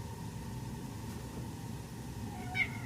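A house cat gives a short meow near the end, a brief high call rising over a steady low engine-like hum that runs throughout.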